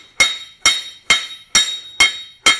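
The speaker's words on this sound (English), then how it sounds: "You just hit it starting on the edge and slightly pulling the hammer towards yourself" Six evenly spaced hammer blows ring out on a heated 1-inch round bar being upset on an anvil, each a sharp metallic clang with a brief ringing decay, loud and close.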